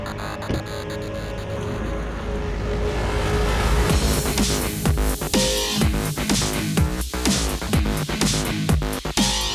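A compact SUV, one of a Honda CR-V, Mazda CX-5 or Ford Kuga, drives on the road with loud, steady engine and road noise and repeated sharp thumps and rattles over the surface.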